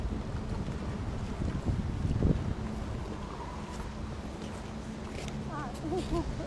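A boat's engine hums low and steady as the boat turns in a canal in Saint Petersburg, over wind buffeting the microphone, with voices talking nearby and water noise around.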